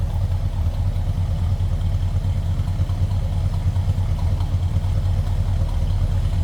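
A 1964 Pontiac Grand Prix Sport Coupe idles from behind the car, a steady, low, rhythmic exhaust burble with a slight lope that continues evenly throughout.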